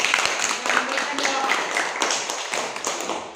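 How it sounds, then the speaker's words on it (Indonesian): A classroom of students claps for the group 3 representative, a short burst of brisk, fairly close applause with scattered individual claps and a voice briefly speaking over it. "beri tepuk tangan untuk perwakilan dari kelompok 3"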